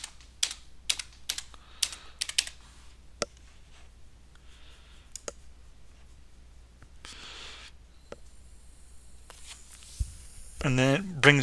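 Keys on a computer keyboard are tapped in short clusters of sharp clicks, fairly close, as a password is entered on an Ubuntu machine, followed by a quieter stretch and then a voice talking at the end.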